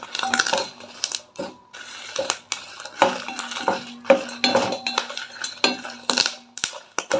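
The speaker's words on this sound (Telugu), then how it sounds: "కరివేపాకు కూడా కొంచెం బాగా వేగాలి మంచిగా చేతితో నలిపితే నలిగిపోయేలాగా వేగాలన్నమాట" Curry leaves crackling and popping in hot oil as a spatula stirs and scrapes the pan, loud close bursts of sizzle and metallic knocks in an uneven rhythm.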